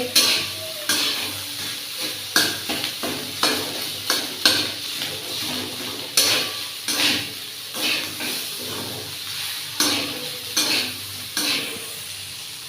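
Cooked rice frying in a pan while a spatula stirs it, producing regular scraping strokes over a soft, continuous sizzle, close by and with no talking.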